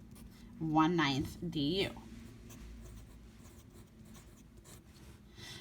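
A pen or marker scratches out handwritten math, with soft rubbing strokes continuing after someone speaks briefly at the start.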